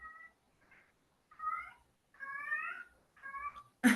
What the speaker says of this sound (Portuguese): O gato tá ali gemendo